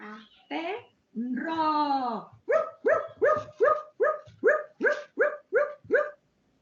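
A young child imitates a dog: a short whine, then a run of about ten quick, evenly spaced yapping barks, close and clear.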